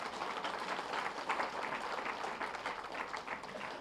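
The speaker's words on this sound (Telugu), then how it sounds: "ఒకసారి గట్టిగా చప్పట్లు కొట్టండి." People at a meditation ashram gathering clap together in a steady, fairly faint wash of applause that holds evenly throughout without talk.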